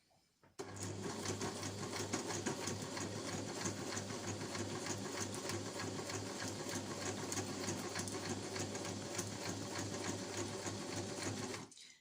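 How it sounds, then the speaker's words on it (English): Sewing machine stitching around a reusable snack bag, a steady fast needle chatter with a low motor hum running unbroken for about eleven seconds, close and fairly quiet. "So I'm just gonna line it up and sew around it."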